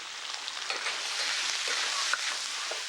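Sizzling and crackling of a Sichuan dish being stir-fried, a steady close hiss of hot oil with small pops and scraping stirs throughout.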